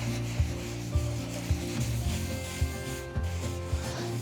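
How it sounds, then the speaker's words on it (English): Napkin rubbing wood stain into a rustic wooden serving tray, a soft continuous scrubbing with regular strokes about every half second over a steady background hum. "use kind of a napkin here and just start kind of rubbing it in"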